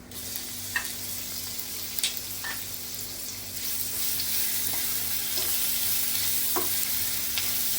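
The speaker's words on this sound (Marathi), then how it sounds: "ठेचलेला लसूण घालायचं आहे फोडणीमध्ये" Crushed garlic goes into a hot oil tempering with mustard seeds, asafoetida, cumin and curry leaves, a steady crackling sizzle that grows a little louder midway, broken by occasional soft clicks, with no speech.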